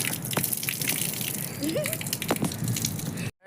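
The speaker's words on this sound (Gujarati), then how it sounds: "આ જોઈ લો ભૂંગળામાં પાણી નાખતા હતા." Water is poured into a pipe with a continuous rushing, gushing wash, close and fairly loud, with a few knocks along the way before it cuts off abruptly.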